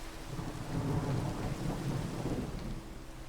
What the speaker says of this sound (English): And hope that the rain subsides.